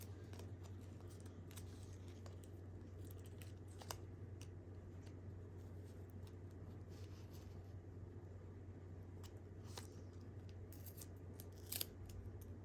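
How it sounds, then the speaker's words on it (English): Scissors snip through paper text pieces at a desk during junk journal crafting with recycled desk items, giving a steady run of soft, close cuts over a constant low background hum, with no voices. "Let's try cutting just a smaller text."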